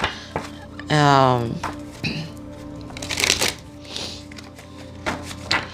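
Close, crisp riffling and snapping of an oracle card deck, a past life deck, being shuffled by hand, with a longer bridge-like burst near the start and scattered soft card taps after, while a person speaks now and then.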